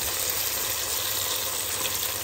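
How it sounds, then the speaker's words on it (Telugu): Onions sizzle steadily in hot oil, frying for a mutton dum biryani; a close, even crackling hiss continues without pause and with no voices. "ఒక పక్కనైతే ఇంకా ఫ్రైడ్ ఆనియన్ చేస్తూ ఉన్నాము దమ్ బిర్యానీ కోసం"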